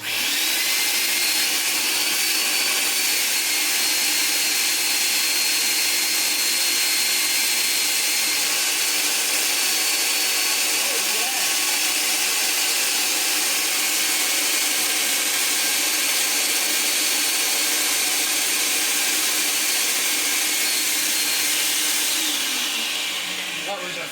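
A 1982 Hoover Powervac Wet&Dry S4266 vacuum cleaner fitted with its big hose runs in a steady, loud, continuous broadband roar, close by, holding level for the whole stretch before cutting off at the end.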